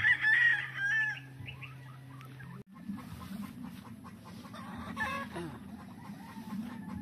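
Cardinal Club Kelso gamefowl in a breeding pen crow loudly near the start, followed by scattered clucking and softer fowl calls throughout, with no talk.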